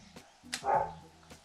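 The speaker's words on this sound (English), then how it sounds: "Excuse my dogs, they're barking at an owner who's walking their dog right now." A dog gives a single muffled bark with some faint yips around it, somewhat distant and quiet.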